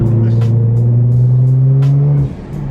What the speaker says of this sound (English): Oh, that blow-off valve, dude.